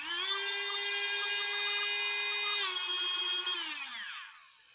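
A Tacklife cordless rotary tool on its lowest speed setting, a steady high-pitched motor whine held close that dips slightly in pitch and then winds down as it switches off.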